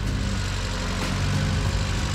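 A Mazda Miata engine runs at a steady idle-like drone, a close and even low rumble with no pauses.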